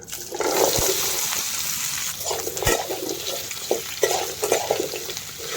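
Potatoes and bitter gourd hit hot oil in a kadai with a steady, close, loud sizzle and hiss, while several scraping stirs break through the frying.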